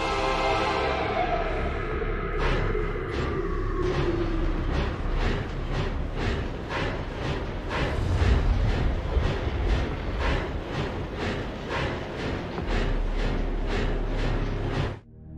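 A train rides along in the video game Oddworld Soulstorm, with a steady rolling rumble and a regular clickety-clack of wheel beats running through the whole stretch, loud and close, with no voices.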